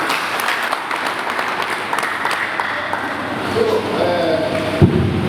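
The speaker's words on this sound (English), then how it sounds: "Can we give him another round of applause?" Audience applause after a lecture at a gathering, a steady dense patter of clapping throughout with some voices mixed in underneath.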